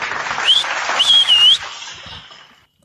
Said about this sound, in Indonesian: Tepuk tangan lagi deh.